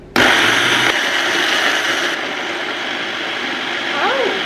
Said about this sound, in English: I had very little faith in this blender.